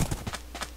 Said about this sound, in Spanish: Este es un caballo. Y es rapidísimo.